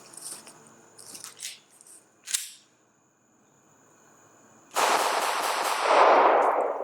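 A Glock pistol fitted with a Terran Tactical extended magazine is fired outdoors. A sharp report is followed by a dense burst of loud, rapid cracks, with small mechanical clicks beforehand.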